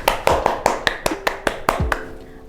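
Vocational high school students clapping hands in distinct rhythmic beats, about a dozen sharp claps in a steady pulse, close and clear, with a faint tone sounding underneath toward the end.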